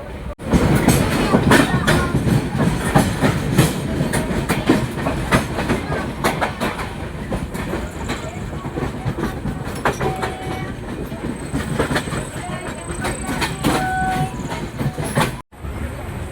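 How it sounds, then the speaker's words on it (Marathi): A train pulls out of Panvel station with loud, continuous rumbling and rhythmic clickety-clack of wheels over rail joints, a horn sounding briefly partway through, and a voice speaking faintly now and then. "फायनली ट्रेन पनवेलवरून सुटली आहे."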